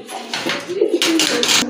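A pair of big-sized pigeons at a pet pigeon sale give short cooing calls close by, mixed with bursts of rustling noise from the cage.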